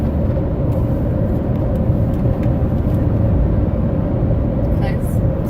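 A car cruising at about 72 mph on a California highway, heard from inside as a steady, loud, broadband road and engine rumble without a break, with people talking over it.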